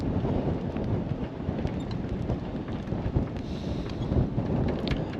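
Strong storm wind buffets a boat lying at anchor in shallow water off Corfu, a steady broadband roar with gusty swells throughout and no speech.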